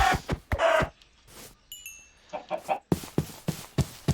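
Chickens cluck in the RLCraft modded Minecraft game, short repeated clucks and squawks in an irregular rhythm, mixed with other brief game sounds and a faint chime.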